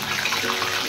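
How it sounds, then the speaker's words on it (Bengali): Pieces of taro dropped into hot oil give a brief, bright hiss of sizzling, close and fairly loud, with a voice faintly underneath. "এই কচুগুলোকে তেলে ছেড়ে দেবো"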